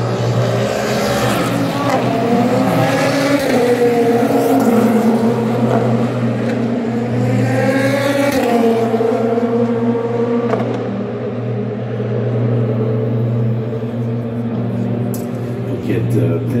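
The number 7 Toyota prototype running in Le Mans practice, a sustained engine drone with a steady low tone and rising and falling pitch sweeps as it passes, under continuous commentary.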